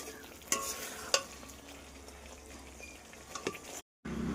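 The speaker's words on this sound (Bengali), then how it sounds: "এখানে যে মশলা কষানো হচ্ছে" Spices sautéing in a pan for a chitol fish curry, a soft sizzle with a couple of sharp spoon clacks and scraping stirs, cut by a brief silent gap near the end.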